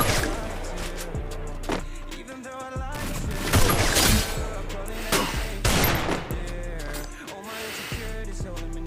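Kar98 bolt-action rifle shots in a shooting game, several sharp loud cracks spaced apart with mechanical clatter between them over steady game background, no talking.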